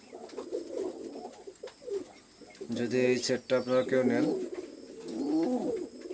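Pigeons of a breeding pair coo in close, repeated throaty rolls, while someone speaks in Bengali over and between the calls.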